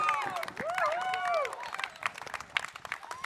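Finish-line applause and cheering greet a cycling finisher at a summer event in Wanganui, with clapping and whoops, plus a voice briefly mimicking a cheer-like woohoo up front.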